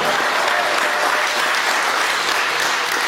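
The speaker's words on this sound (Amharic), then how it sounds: "እስኪ ያያችሁ አጨብጭቡ ለሰራዊት ጌታ ለእግዚአብሔር" A church congregation claps throughout at a gospel sermon, with dense sustained applause from many hands filling the room at an even, loud level.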